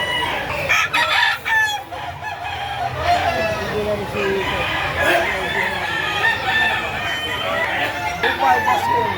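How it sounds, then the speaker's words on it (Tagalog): A bullstag gamefowl rooster crows amid clucking fowl at a poultry market during the rainy season, with someone talking over the birds nearby. "Isang bullstag, oh."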